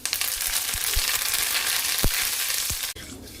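Asafoetida and curry leaves sizzling in hot tempering oil for coconut chutney, a steady loud crackling fry with a few sharp pops and stirring clatters, ending abruptly near the close.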